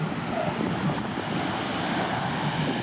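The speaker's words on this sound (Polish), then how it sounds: "Zobaczcie, jakie fale dzisiaj są fajne." Sea waves wash onto a sandy beach at a campsite in Greece, a steady broadband surf roar mixed with wind buffeting the microphone and no talk over it.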